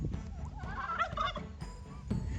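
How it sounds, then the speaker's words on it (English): Crollwitzer turkeys in a farm enclosure gobble: a rapid, warbling, rising gobble from a nearby bird, with a second call following, over light background noise and no talking. "Okay, so turkeys, these guys are a breed called the Crowlitzer"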